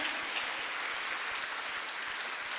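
A church congregation at a bilingual Sunday service applauds in steady, even clapping, a continuous wash of many hands heard at a moderate distance with no voices over it.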